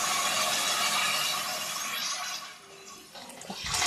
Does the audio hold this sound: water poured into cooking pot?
yes